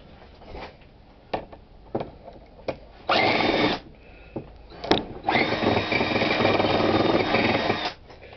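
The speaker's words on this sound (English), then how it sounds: "It's a pretty hefty drill here." A heavy power drill whines in bursts boring aluminum, a short run followed by a longer sustained one, with clicks and knocks between, loud and close.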